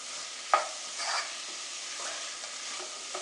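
Green chillies and onions sauté in a pan for a crab roast, with a soft, quiet sizzle under a few brief scrapes and clacks from a stirring spoon.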